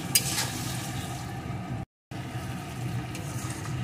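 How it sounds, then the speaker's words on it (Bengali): Spiced rohu fish curry with cauliflower, turmeric and tomato being sautéed in a pan, giving a steady, loud, close sizzle that cuts out for a brief moment midway, then resumes. "এখন সুন্দর করে আমি বেশ কিছুক্ষণ কষিয়ে নেব।"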